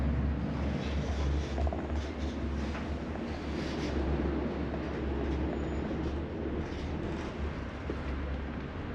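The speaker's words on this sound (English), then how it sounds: "Today I'm going to take an overnight journey to Izmir on a classic long-distance train." A classic long-distance TCDD overnight sleeper train runs from Ankara to Izmir. Low, steady rumble of the rolling carriage and faint rattles continue at a quiet level throughout, with no speech.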